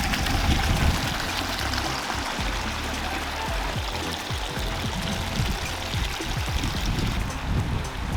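Water spilling down a large pondless boulder waterfall split into two entry points, a steady close splashing and pouring rush with bubbling trickles, continuous and fairly loud throughout.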